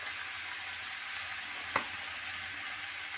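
Boti curry fries in a pan with chili powder and salt, giving a steady, even sizzle throughout, broken once by a single sharp clink of a utensil midway.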